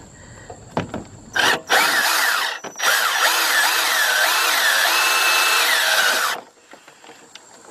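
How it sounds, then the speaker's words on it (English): A loud power drill whines steadily for several seconds drilling out a rivet on a 2005 Chrysler Town and Country, its pitch wavering as it bites, with brief bursts before and a quiet tail after. "drill that rivet out."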